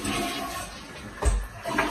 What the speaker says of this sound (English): when you come back inside, you do a courtesy flush.